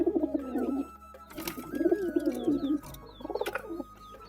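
A pigeon in its coop gives three bouts of soft, throaty cooing, close and clear, separated by short pauses with a light rustle.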